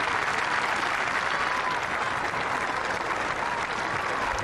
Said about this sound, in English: Tremendous applause for a tremendous player